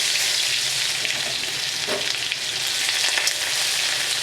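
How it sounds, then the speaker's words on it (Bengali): Grated garlic frying in oil with black cumin seeds: a close, steady sizzle that hisses continuously without pause. "একটু ভালো করে ভেজে নেব রসুনটা যতক্ষণ না কাঁচা গন্ধটা বের হয়"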